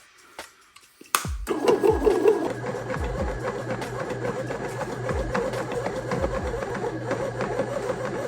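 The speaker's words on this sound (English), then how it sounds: "notice the machine is turning and moving" A bread-making machine runs steadily, its motor humming and the mechanism turning and shifting with repeated soft knocks and thumps, starting abruptly after a brief quiet moment and continuing at an even level.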